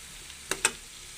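Lechon paksiw with sayote being stirred in a pan: two quick, close scraping strokes of a spoon, with a faint sizzle between them and no other sound.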